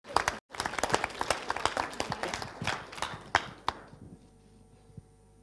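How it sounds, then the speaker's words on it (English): Conference audience at a youth workers' education and training event bursts into applause, a dense patter of hand claps lasting about four seconds before trailing off into a few scattered claps and near silence. "So I just ask them to applaud you for that."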